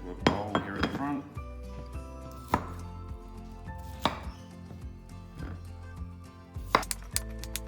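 Cut cauliflower pieces dropped into a bowl, a handful of sharp clattering knocks and clinks up close, spaced irregularly with quiet gaps between.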